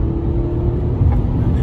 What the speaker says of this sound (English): let me get on the gas aggressively.